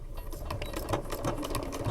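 A sewing machine stitches fabric for a bottle-holder project, a steady, continuous mechanical whir with a rapid needle rhythm, close by and alone.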